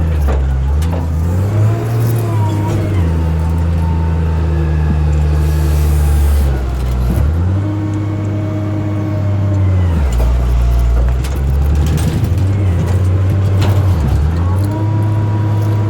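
A car stuck on wood revs repeatedly, its tires spinning in place, rising and falling in long strained surges, loud and close with faint rumbling between.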